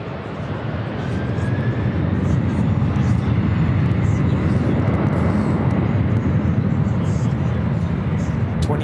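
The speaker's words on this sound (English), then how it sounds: "We're looking at Delta Airlines flight 443 taking off to Honolulu on the 767 300ER Aloha." A Delta Air Lines Boeing 767-300ER takes off, its jet engines swelling from a quieter start into a loud, sustained roar that holds steady for several seconds.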